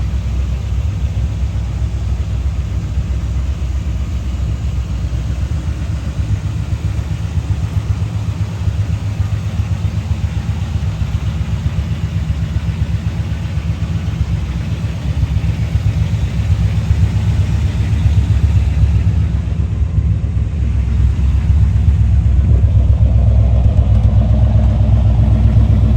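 A 1978 Chevrolet Corvette C3 Pace Car idling outdoors, a steady low engine rumble that holds evenly and grows slightly louder near the end, with no talking.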